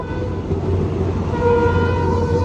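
Loud, steady rumble and rhythmic clatter from inside a moving train's general-class carriage in Assam, with low mechanical drone and faint tonal whine throughout.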